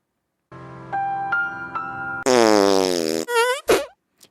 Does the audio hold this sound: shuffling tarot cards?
no